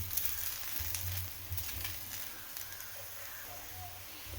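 Ragi roti frying on a hot pan, giving a steady soft sizzle with faint crackles throughout, quiet and close, with no talking.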